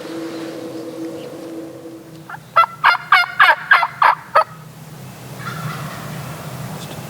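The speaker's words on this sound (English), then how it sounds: "Sounds like we got a new bird that just jumped on the scene." A loud burst of rapid, repeated bird calls, about seven sharp notes in quick succession, rising out of a quiet outdoor background with a low engine hum.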